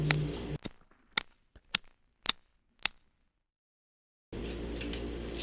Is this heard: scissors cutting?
yes